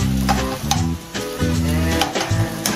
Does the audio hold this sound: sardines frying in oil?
yes